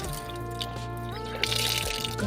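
Rainwater collected from a roof runs out of a loosened tap fitting in a steady, continuous gush, close and fairly loud, with a bubbling tone that shifts slightly partway through.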